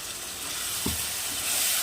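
Dried red chillies frying in hot oil make a steady close-up sizzle and hiss, with a brief stirring knock partway through.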